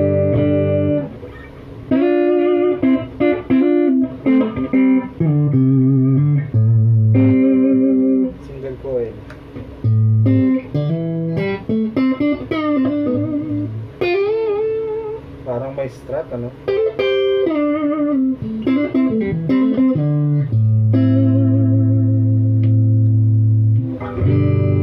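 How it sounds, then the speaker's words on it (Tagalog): An Elegee Alab Cosmos electric guitar, a Philippine-made instrument, plays on its neck humbucker with a clean amp tone: a continuous run of chords and melodic single notes, loud and close, with sustained ringing notes throughout. "Clean tone muna tayo. Test natin yung humbucker na"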